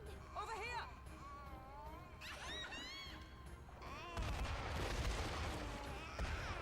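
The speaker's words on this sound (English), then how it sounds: "It's exploding" In Metaphor ReFantazio, lively voices talk over a quiet background before a sudden explosion erupts into a loud, sustained crashing roar that continues to the end.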